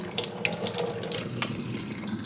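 Clean water pours steadily from the tap of a water filter system, a continuous close splashing stream with small bubbling bursts, fairly loud and heard alone.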